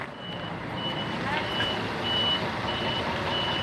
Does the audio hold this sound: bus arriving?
yes